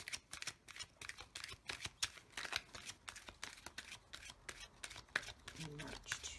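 Tarot cards being shuffled by hand in quick, uneven bursts of riffling and slapping, close and fairly quiet.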